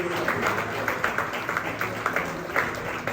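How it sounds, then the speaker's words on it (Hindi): Loud, rhythmic clapping from a marriage seminar audience in a hall, steady and energetic throughout, with voices mixed in. "एक बारी अपने तोहफे की तरफ देखकर जोरदार तालियां बजाइए"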